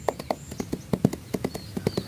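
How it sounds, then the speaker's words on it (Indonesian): Horse hooves clip-clop in a steady rhythm of about ten distinct strikes, moderately loud and getting closer, with no talking over them. "dari jauh ada suara kuda"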